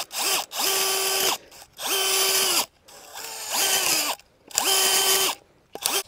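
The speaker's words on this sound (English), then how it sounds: "my husband uses the longer auger with this, the one that goes with this 20-volt drill" A 20-volt cordless drill spinning a long auger into garden soil, whirring in four sustained bursts of a second or so with short pauses between, close and loud with a gritty churning edge.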